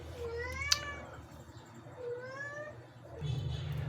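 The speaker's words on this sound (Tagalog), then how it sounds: "Narinig nyo ba yung pusa ko?" A house cat meows twice in drawn-out, rising-and-falling calls, fairly close, with a faint click between them and a low background hum entering near the end.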